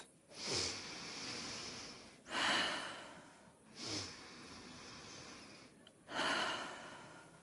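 A character in the video game Kingdom Come: Deliverance 2 takes four slow, deep breaths, each a loud airy inhale or exhale followed by a short pause, close and clear with no talking.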